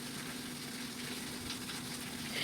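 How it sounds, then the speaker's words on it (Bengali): Garlic cloves frying in oil, a faint continuous sizzle and crackle with a low steady hum underneath, no talking. "রসুনের কোয়াগুলো সুন্দর করে ভেজে নিচ্ছি।"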